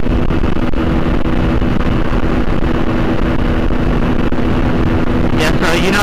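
Heavy wind buffeting a microphone while riding a TMEC 125 enduro motorbike at high speed, a loud continuous roar with a steady engine hum beneath, and a brief burst of higher noise near the end.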